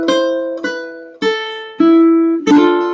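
A plucked ukulele picks out a slow melody of five ringing notes, each one decaying before the next, played alone.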